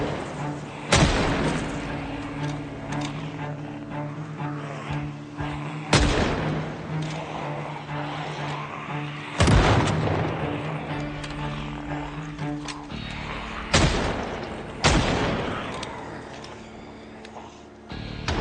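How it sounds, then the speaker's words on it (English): Gunfire in the Project Zomboid video game, with five loud, sharp shots spaced a few seconds apart over a steady low ambient hum, each followed by a short decaying echo. "Somebody's out there shooting as well."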